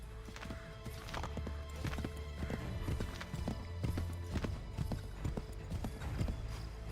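A horse gallops in the video game Assassin's Creed 3, a rapid, steady clip-clop of hooves with rhythmic thuds running throughout, fairly close and loud.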